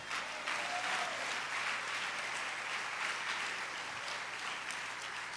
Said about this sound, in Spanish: Dale ese aplauso a la gloria del Señor.